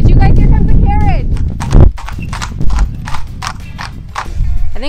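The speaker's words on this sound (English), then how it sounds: "You guys, here comes a carriage." Hooves of a horse-drawn carriage clop in a steady, brisk rhythm close by on a street in Đakovo, Croatia, with a voice briefly heard at the start.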